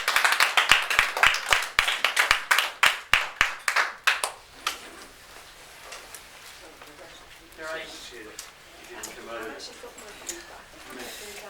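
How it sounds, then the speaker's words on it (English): A group claps hands together at a hypnosis session, a quick run of sharp, fairly loud claps for about four seconds that thin out and stop, followed by people talking. "give yourselves a clap"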